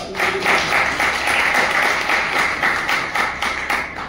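Audience applause for a fitness icon award winner at an Indian award ceremony: steady, dense clapping from a crowd that holds at an even, moderately loud level throughout.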